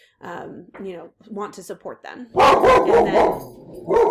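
A dog barks in short sharp bursts, several rapid yaps close by, breaking in after and over a person talking in a quiet room.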